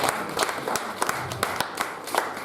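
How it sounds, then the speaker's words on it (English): Church congregation clapping hands in celebration, a fairly soft patter of many hands with a few sharper, louder claps standing out, brief and steady. "Clap your hands and celebrate Jesus."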